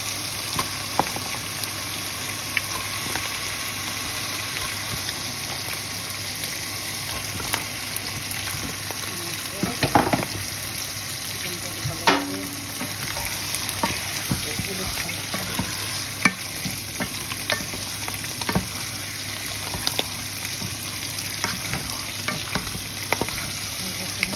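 Chicken being fried in cooked-down curry masala in a pan, a steady dense sizzle with stirring scrapes and a few sharper clinks, continuous and fairly close throughout.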